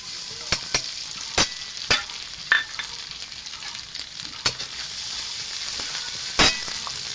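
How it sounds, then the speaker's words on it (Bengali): Onion-garlic paste frying in hot oil for jackfruit and prawn curry, with a steady close sizzle and repeated sharp clicks of a spatula against the pan. "তেলটা গরম হয়ে গেছে। দিয়ে দেবো পেঁয়াজ, রসুন বাটা। এটা একটু কষিয়ে নেব।"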